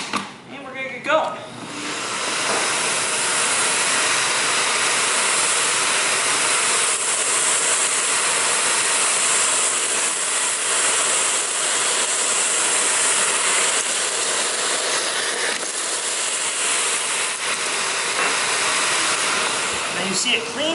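Vintage Dyson floor tool on a vacuum cleaner running over parquet wood flooring, a steady loud broadband roar that holds for about twenty seconds after a brief start.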